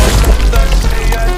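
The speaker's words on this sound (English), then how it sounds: "It is not thunder, just the sound of lightning." Lightning strike sound effect from a Thor movie scene: a loud, dense crackling blast with sharp snapping bursts and a deep rumbling low end that fills the whole short moment.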